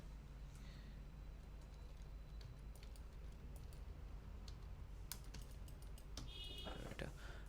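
Quiet clicking of computer keys as Python code for a calculator program is typed, sparse taps at first and then a quicker cluster near the end, faint over a steady background hiss.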